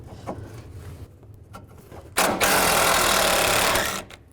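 A 10mm socket on a ratchet or power driver spins out bolts on a 2005–2015 Nissan Xterra radiator, giving a loud close burst of whirring for about two seconds after a few quiet clicks and handling noises.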